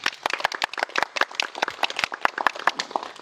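A congregation claps in a Catholic church during a baptism Mass, thanking a nun for her talk: a dense, steady patter of many hands sustained at moderate volume throughout.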